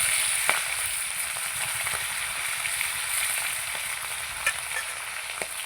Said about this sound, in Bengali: মাছের মাথাগুলো প্রথমে ভেজে নেব।